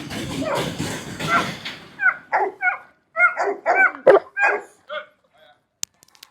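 A female dog gets riled up around other dogs on a walk, first letting out a dense scuffle of excited noise, then a run of sharp, loud barks and yips at close range, tapering off into quiet.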